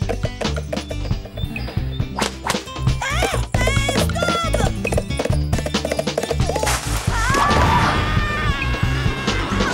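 Horse moving in a French cartoon, hooves clip-clopping in quick repeated beats with a whinny, loud and close over busy music and sound effects.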